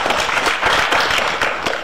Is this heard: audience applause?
yes